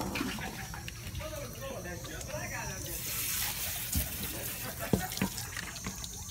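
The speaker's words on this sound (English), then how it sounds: "Give it a little rinse." Tap water running over a Florida golden crab in a sink, a steady faint splashing stream with a few knocks and clatters, while someone talks quietly.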